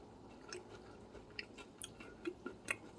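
Crunchy sea-salted sunflower seeds are chewed close up, with soft irregular crunches and clicks over a quiet background and no talking.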